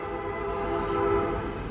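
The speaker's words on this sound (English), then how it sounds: "I was waiting for the train to go by." A loud train rumbles past a mobile home homestead garden in the morning, a steady close roar with a horn-like tone running through it and no speech.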